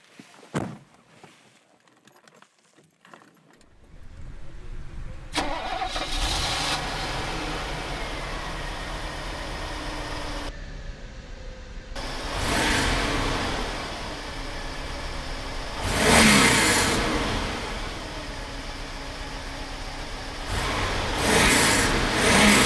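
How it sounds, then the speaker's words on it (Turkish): A Mercedes 560SEC's 5.5-liter V8 engine cranks and catches, then runs with a deep rumble that swells in a few strong revs before settling back. "Şimdi isterseniz aracımızın motorunu bir çalıştıralım."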